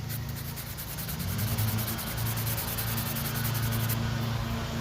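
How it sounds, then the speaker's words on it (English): Steady, continuous hand sanding of tool marks, a rhythmic scratchy rubbing of 400-grit sandpaper close up, with a low hum underneath and no talking. "I'm sanding tool marks off of this thing."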